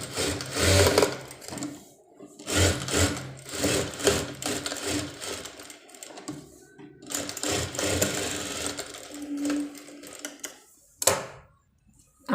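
An electric sewing machine stitches along the side seam of a one-piece dress cut from an old sari, whirring in close, uneven bursts with short pauses between runs.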